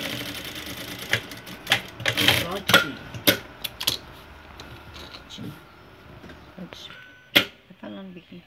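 A sewing machine stitches fabric in short, irregular bursts of rapid clattering, with sharp mechanical clicks and pauses between runs, close by.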